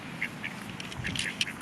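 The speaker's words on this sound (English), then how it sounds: "She's chasing the duck." A duck quacks in a scattered series of short calls against a busy outdoor background as a young child chases it, with no clear speech.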